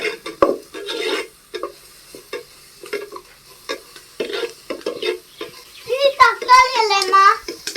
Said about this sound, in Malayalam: കുറച്ച് ഇഞ്ചി വെളുത്തുള്ളി പേസ്റ്റ് അല്ല കുറച്ച് മുറിച്ച് വെച്ചത് ഇട്ട് കൊടുക്കുക